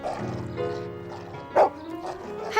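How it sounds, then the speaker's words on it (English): A cartoon dog from a children's TV show barks, a single bright bark standing out near the middle over a bed of music. "Herbie barked."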